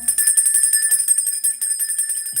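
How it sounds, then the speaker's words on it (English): Small bell rung rapidly and continuously, a bright high metallic jingle with steady sustained tones, close and loud for the whole stretch. "Let me ring my bell."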